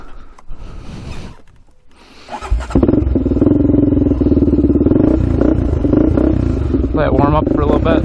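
A Honda 400EX quad engine warms up, starting with a few rough turns then settling into a loud, steady idle with uneven throbbing pulses close by.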